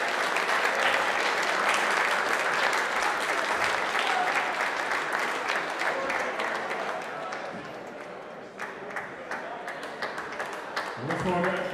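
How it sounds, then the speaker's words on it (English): An audience at an All-Ireland four-wall handball minor doubles final applauds the champions, a broad, steady clapping crowd that thins out toward the end, with a voice over it. "From Kildare, let's give a huge round of applause to Leah Doyle and Abby Tarrant."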